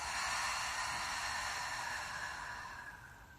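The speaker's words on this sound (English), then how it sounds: "Making these audible exhales." A deep, audible exhale through the mouth during a guided grounding meditation: one long, close breath of airy hiss that holds steady, then slowly fades toward the end.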